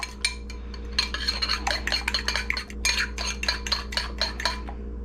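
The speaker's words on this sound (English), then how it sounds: "You just beat your eggs." Eggs beaten in a bowl with a utensil, a fast run of repeated light clinks and scrapes against the dish, close and steady over a low constant hum.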